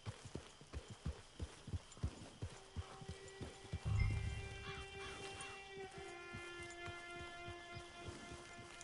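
Horse hooves clip-clop in a steady trotting rhythm through the Western game Red Dead Online, then the hoofbeats stop with a low thump, giving way to sustained tones and quieter ambience.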